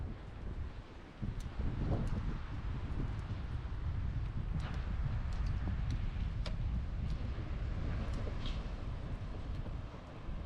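Wind at Huntington Beach State Park gusts across an open shoreline and a microphone in a steady, loud rumble. Faint scattered knocks and rustles sit on top, with no talk.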